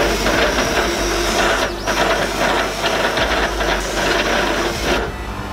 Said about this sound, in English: What I'm gonna use the laser for this time is to cut the outline of the logo